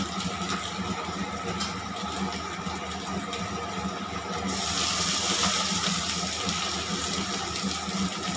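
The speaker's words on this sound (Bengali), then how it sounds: "পরিমাণ মতো জল দিয়ে দেবো।" Water pours steadily into a pan of fried vegetables for a home-cooked dish, a continuous rushing splash that grows louder and fuller partway through, with no talking.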